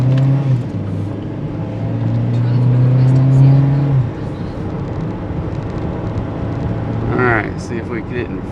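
A car's engine drones steadily while making a U-turn in a circle drive, swelling in pitch and loudness as it accelerates before easing off. A brief voice is heard near the end.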